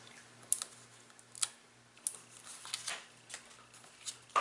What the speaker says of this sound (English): So if you hear a lot of crunching sounds in the background, it's just Sugar chewing on her bone.